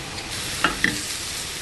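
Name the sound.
shrimp frying in a crowded pan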